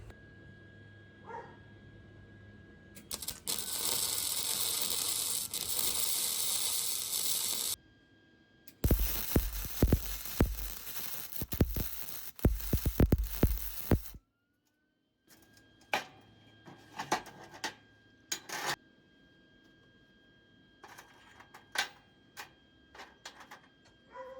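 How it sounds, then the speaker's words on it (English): Welding a small piece onto the steel tooling arm of a homemade 2x72 belt grinder, with long bursts of harsh, loud crackling hiss, then stretches of sharp ticking and tapping between quieter pauses. "we're going to start by welding this little piece onto the tooling arm"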